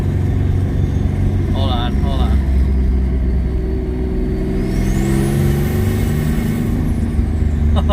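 A twin-turbo V6 Mustang engine drones loud and steady under acceleration in second gear, with a faint rising whine of boost toward the end, while someone speaks briefly over it.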